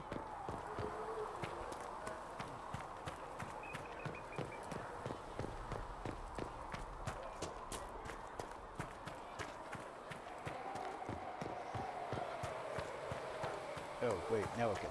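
Horse hooves clip-clop in a steady walking rhythm in the Dragon Age video game, moderately close and continuous beneath soft ambient game sound.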